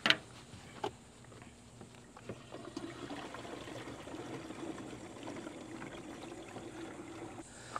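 Water pours into a backpack sprayer tank while a plant growth regulator mix is brought up to two gallons, a continuous close trickle and splash with a few clunks of handling at the start.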